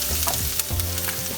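Chopped garlic sizzles and fries in two teaspoons of hot oil in a pan, with a steady close crackle and a few light stirring scrapes throughout.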